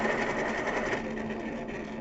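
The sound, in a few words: electric pencil sharpener sharpening a pencil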